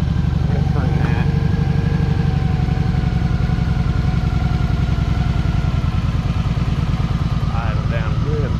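A Honda Magna VF750 V4 motorcycle engine runs steadily and loudly close by, a continuous throbbing idle that holds throughout with a few brief revs near the start and end.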